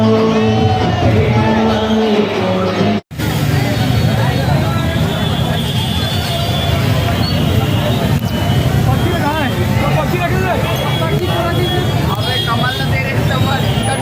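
A dense, loud crowd at a cinema during the intermission, with continuous babble, shouts and chatter filling the space, and someone talking over it.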